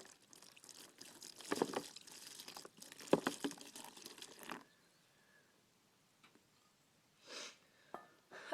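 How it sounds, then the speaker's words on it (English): Vinegar is poured onto limestone: a soft splashing trickle with faint crinkling for several seconds, then near silence with a couple of brief small splashes near the end. "So this will be the acid rain falling onto the limestone."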